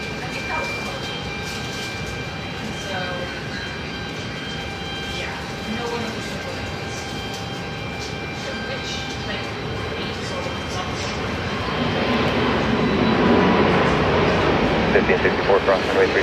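A plane at Seattle-Tacoma International Airport, heard as a broad, steady jet roar that swells louder in the last few seconds, with people talking over it.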